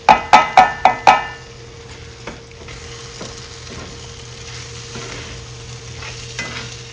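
A spoon raps five quick times against a hot pan, then stirs salsa and cream cheese with soft scraping and a low sizzle. No one speaks.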